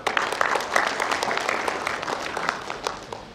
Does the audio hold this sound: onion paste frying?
no